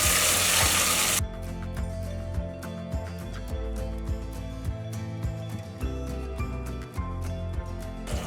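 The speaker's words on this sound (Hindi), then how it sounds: "अब हम इसमें टमाटर पेस्ट ऐड कर देंगे।" Tomato paste hits frying golden onions in a pan with a loud, hissing sizzle for about a second, then the sizzle drops away under background music.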